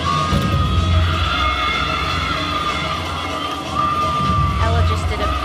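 A home crowd at a college gymnastics meet cheers loudly and steadily for Alabama's floor routine, with shouts and whoops over a dense, continuous roar from the arena stands.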